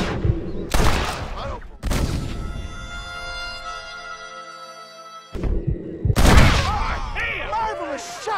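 Gunshots in Red Dead Redemption: loud close shots in separate bursts among dialogue, with a sustained musical tone in between and more shots and voices at the end.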